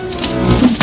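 Pigeons or doves coo outside in a film scene, a soft repeated low cooing close by over a steady background hum and light street noise.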